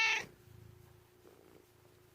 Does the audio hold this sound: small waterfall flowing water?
no